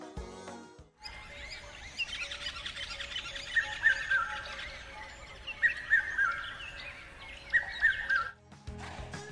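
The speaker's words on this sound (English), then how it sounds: "They are birds singing!" Birds sing outdoors in repeated short chirping phrases, moderately loud over a soft steady background hiss.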